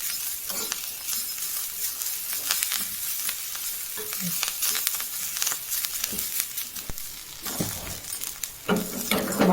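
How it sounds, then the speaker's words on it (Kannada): Touch-me-not (nachike mullu) leaves frying in oil in a pan, a steady sizzle with frequent scraping and clinking stirring strokes, close and continuous with no talk. "ಸೊಪ್ಪೆಲ್ಲ ಕಲರ್ ಚೇಂಜ್ ಆಗೋ ತನಕ ನಾವು ಎಣ್ಣೆಲಿ ಈ ಥರ ಫ್ರೈ ಮಾಡ್ಕೋಬೇಕು"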